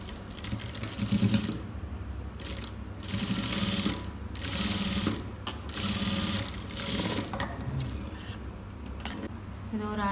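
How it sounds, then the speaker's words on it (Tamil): Domestic sewing machine running in bursts while stitching a top seam on silk fabric for a girl's pattu pavadai dress, a steady mechanical whir with pauses between runs, close and fairly loud. "இது அப்படியே மேல் பக்கம் திருப்பி இதுக்கு மேலே ஒரு பதிச்சு தையல் போட்டுக்கணும்."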